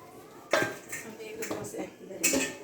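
Clattering dishes and pots used for dosa being washed, with several sharp clanks of metal vessels knocking together at close range.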